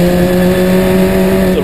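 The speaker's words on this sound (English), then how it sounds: "Again, Wainwright drifts his car through the turns." Historic Formula Ford race cars scream through the turns at Snetterton circuit, a steady, loud, high engine note holding pitch throughout with faint tyre scrub beneath.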